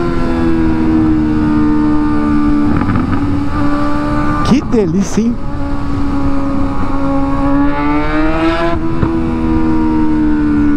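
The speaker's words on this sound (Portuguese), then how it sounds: "você reacelera a moto, vem entregando potência de uma vez só" A loud four-cylinder Suzuki GSX-S motorcycle engine idles with a throaty rumble, then revs sharply twice before settling back; someone speaks briefly over it.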